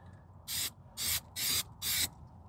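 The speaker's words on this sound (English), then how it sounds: "with my 3M adhesive spray" A can of 3M adhesive spray hisses in four short, even bursts onto a 1998 Jeep ZJ door panel, close and fairly quiet, with brief pauses between the sprays.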